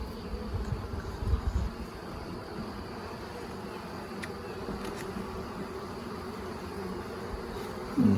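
Honeybees buzz steadily around an open hive frame during an inspection, a continuous soft drone close by with occasional louder passes near the start.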